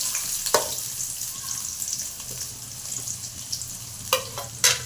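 Three medium onions fry with cloves in hot oil for a chicken curry, giving a steady close sizzle broken by a few sharp scraping stirs.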